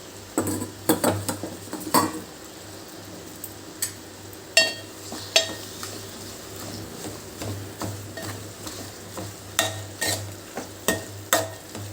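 Mint leaves go into a hot pan of cooking chutney and get stirred, giving a low steady sizzle under repeated scraping and clinking of a spoon against the pan.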